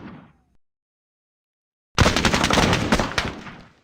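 Sustained machine gun fire in the Squad Battles Eagles Strike war game, a dense loud burst of rapid shots that starts abruptly after near silence and runs unbroken to the end.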